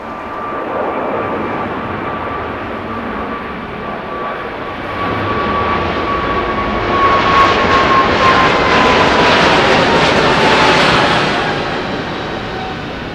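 A loud jet airliner departs LAX airport, its engine roar building steadily and swelling to a peak before easing slightly, continuous and close with no talk.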